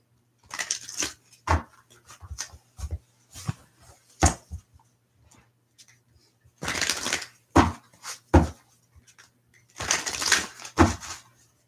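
Bursts of tarot cards being shuffled, riffling and slapping together in short quick rounds separated by quiet pauses, close by.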